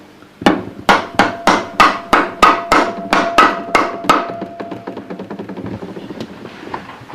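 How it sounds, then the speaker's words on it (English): Repeated rubber mallet taps on a 13B rotary engine part during a rebuild, about a dozen sharp evenly spaced blows close by, ringing slightly, then softening into quicker, lighter taps that fade out. "And then it's just gently tapped in with the rubber hammer."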